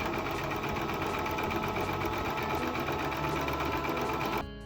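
A sewing machine runs steadily along a curved seam on a fabric face mask, a close, even mechanical whir that continues alone for several seconds and then cuts off at the end.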